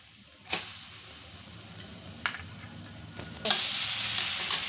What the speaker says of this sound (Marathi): नारळ 1 मिनिटभर चांगला परतून घ्यायचा आहे तुपावरती